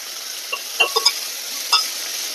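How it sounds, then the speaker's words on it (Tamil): Green chillies are sautéed in a hot pan, with a soft, steady sizzle broken by a few sharp clicks and scrapes of stirring, close and without talk. "வதக்குங்க,"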